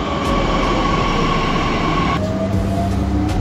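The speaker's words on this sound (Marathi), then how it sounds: "ही आलेली आहे आमची मेट्रो" A metro train rumbles steadily through an underground station near Ideal Colony, its loud, continuous roar carrying a high whine and shifting in tone partway through as it arrives, with no voices.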